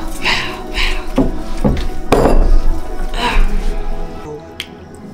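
Boneless carp mixture being mixed in a bowl, with wet squelching and scraping plus a few clinks against the dish, close and fairly loud, arriving in irregular bursts.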